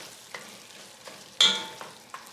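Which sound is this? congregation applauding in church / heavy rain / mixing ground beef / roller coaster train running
mixing ground beef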